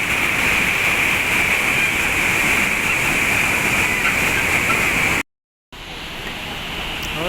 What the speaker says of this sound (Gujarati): એટલું મસ્ત પાણી આવ્યું જાય છે